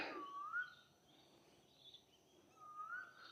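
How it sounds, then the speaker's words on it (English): A bird calls outdoors during a street walk in Innisfail, Australia, giving two clear whistled calls about two seconds apart, moderately near, against quiet background ambience. "Like the sound of that bird."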